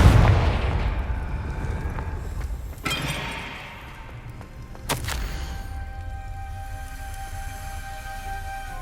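A Confringo blasting curse in Hogwarts Legacy goes off as two sharp booms, one near the start and a stronger one about two seconds later, each rumbling away over a steady low game ambience with no talking.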